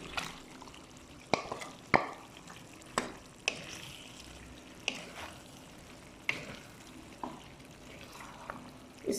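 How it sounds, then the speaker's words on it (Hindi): Boiled beef goes into a pot while achari karela gosht is being cooked. A quiet, low sizzle runs throughout, broken by several sharp clinks and clatters spaced a second or two apart. "अचारी करेले गोश्त बनाने के लिए अभी मैं इसमें डालूँगी गोश्त डालूँगी।"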